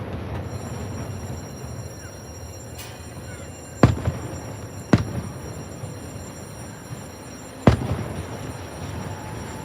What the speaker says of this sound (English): let you guys enjoy the fireworks show.